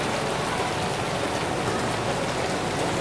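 Steady rain falls at the start of the rainy season, a dense, even hiss of drops pattering on surfaces without pause.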